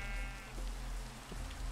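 A Minecraft sheep gives a short, faint bleat near the start, with a soft rain-like hiss filling the background.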